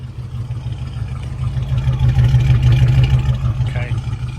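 A 1984 Oldsmobile Hurst engine running, a steady low rumble that swells slightly in the middle, heard up close with no talking.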